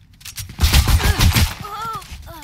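A rapid burst of Valorant gunfire, several sharp shots in quick succession, loud and close, followed by fainter electronic whines.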